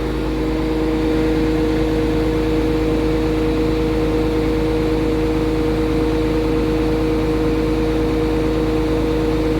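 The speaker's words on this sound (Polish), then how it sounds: "tysiąc obrotów na traktorze" A tractor engine running steadily at 1000 rpm with its power take-off shaft engaged for slurry spreading, a loud continuous droning hum with strong steady tones, close and unbroken, with no talking.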